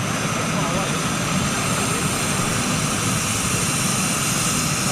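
A British Airways jumbo jet in retro livery arriving at London Heathrow, a steady engine roar heard under talk.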